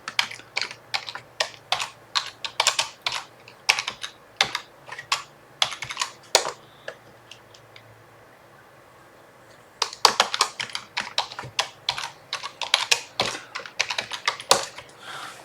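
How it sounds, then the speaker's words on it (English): A password being typed on a computer keyboard at a Linux Rocky 8.5 login prompt: close, crisp keystrokes in quick bursts with a short pause in the middle, then another fast run of typing, no talk. "So I'm going to type in the password."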